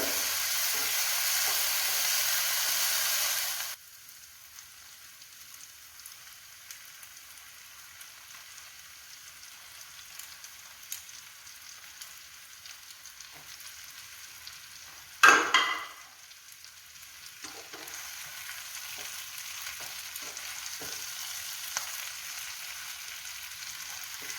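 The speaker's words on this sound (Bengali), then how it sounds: "ভালো করে চিংড়ি মাছে মশলাগুলো মাখিয়ে নেব" Prawns are stirred and fried in a masala with green chillies in a pan. A loud hissing sizzle opens the sound, then it settles into quieter frying with occasional scrapes, one sharp burst partway through, and a sizzle that rises again at the end.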